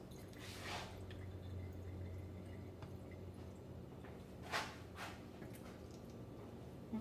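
Excess water is poured out of a pot of bean soup being prepared for canning, a quiet dribbling, splashing flow with a couple of louder splashes against faint room noise.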